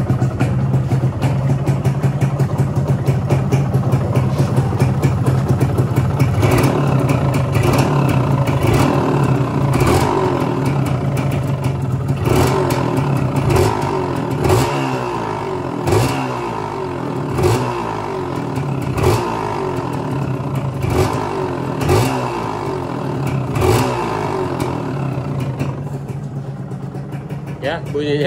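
A 125cc motorcycle engine idles close by with a rough, rattling clutch, a steady mechanical clatter broken by sharper metallic ticks and scrapes as the lever is pulled and released.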